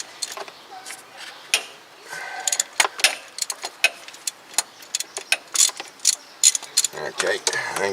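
A ratchet backs out the bottom bolt of the starter motor on a ninth-generation Toyota Corolla, giving a steady run of close, sharp clicking strokes with short pauses, and faint metallic rattling near the end.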